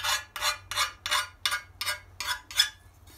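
Sharp cut edges of a metal engine plate deburred by hand with a file: eight evenly spaced rasping strokes, close and moderately loud, in a steady back-and-forth rhythm with no talk.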